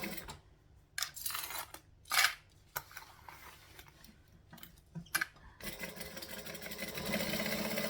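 A sewing machine runs fast in short irregular bursts separated by pauses and small clicks, then settles into a steadier continuous whir near the end, close and moderately quiet.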